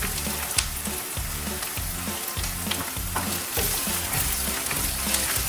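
Ginger garlic paste sizzles in a pan for South Indian mutton keema, a close, steady frying crackle broken by repeated rhythmic stirring scrapes, with no talking.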